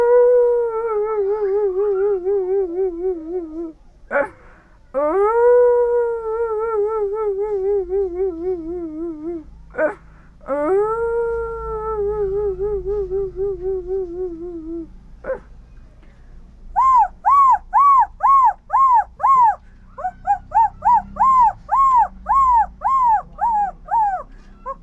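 A person vocally imitates a dog and puppy whimpering: long wavering whines broken by sharp yelps, followed by rapid repeated short whimpering yips, close and loud with no talking.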